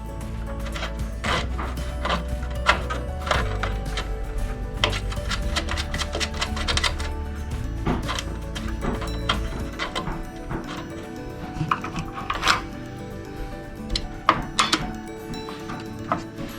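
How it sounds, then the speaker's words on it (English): Screws being adjusted on a Rover Classic cylinder mower give repeated close metallic clicks, ticks and light knocks over a low steady hum. The clatter is irregular and continues throughout, with no speech. "And I'm just adjusting these screws here."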